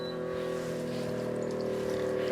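All-in-one espresso machine with built-in grinder pumping espresso: a steady, continuous mechanical hum with layered tonal drone and faint trickling, even in level throughout.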